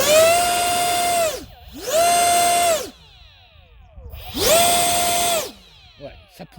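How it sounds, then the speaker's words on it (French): Eachine F-18 RC jet's 12-blade turbine spooling up in three loud bursts, each a steady high whine with a strong tone that rises, holds for about a second and winds back down, with quieter gaps between. "la turbine est une 12 hélices. Normalement le bruit devrait être sympa"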